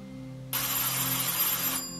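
A telephone rings once in a continuous, buzzing bell tone lasting just over a second, fairly loud over a steady low hum, with no voices.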